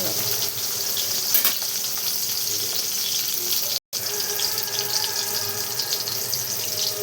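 Cumin seeds and tomatoes frying in a pan, a continuous loud hiss and sizzle with a brief break partway through, no speech over it.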